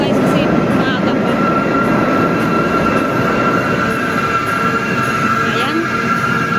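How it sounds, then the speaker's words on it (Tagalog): Steady rumble and hum of an LRT light rail train at Balintawak station in Manila, continuous and loud, with faint high whine throughout. "Ayan ang aming sasakyan na LRT"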